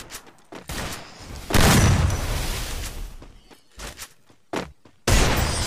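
Rapid bursts of gunfire from a one-on-one headshot match in Free Fire, loud and close, coming in several separate volleys with short quiet gaps between them.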